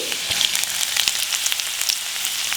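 Chopped garlic and ginger fry in oil in a wok, a loud, close, crackling sizzle with dense popping throughout.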